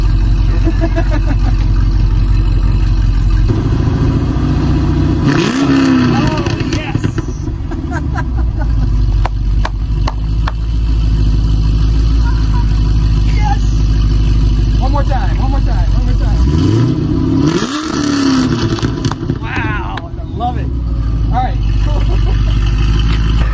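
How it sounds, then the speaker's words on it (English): Deep, throaty Chevy SS (Holden Commodore) engine with long tube headers and X pipe idles loudly, then revs up sharply twice with rising roars that fall back to a rumbling idle, with people talking over it. "Do you mind revving it?"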